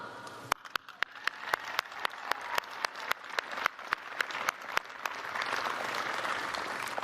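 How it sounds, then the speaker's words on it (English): Commencement audience applause at Bridgewater State University's 2022 undergraduate morning ceremony builds into a broad wash of crowd clapping, with a run of sharp, evenly spaced claps near the microphone cutting through it. "give a big thank you and a round of applause for them"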